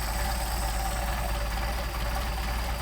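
A Mercedes 190SL engine fitted with Solex 44PHH carburetors idling low, near 450 RPM, a steady close rumbling drone that holds without change and has no talking over it.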